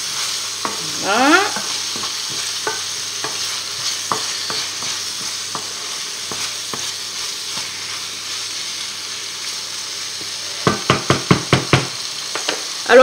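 Chopped onions and garlic sizzle in a hot pan turned down to medium, a steady close hiss broken by scattered stirring knocks and a quick burst of utensil taps near the end, with one brief spoken word.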